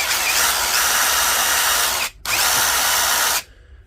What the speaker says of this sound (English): Today we've got this DCF887 Dewalt Impact Driver